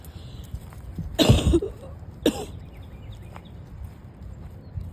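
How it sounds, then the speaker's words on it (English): Two harsh smoker's coughs close to the mic, a longer burst followed by a shorter one, then quiet background. "I got that morning smoker's cough"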